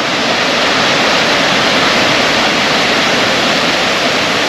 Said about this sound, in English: And there's the waterfall there.